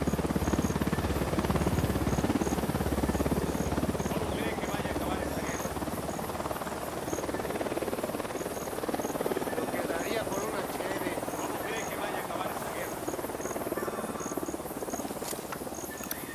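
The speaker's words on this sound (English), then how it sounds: "Chopper, down, down." Enemy helicopter in the Ghost Recon Wildlands video game droning steadily overhead, a continuous rotor rumble layered with insect-like chirping ambience and faint game effects.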